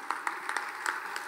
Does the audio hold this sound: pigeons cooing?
no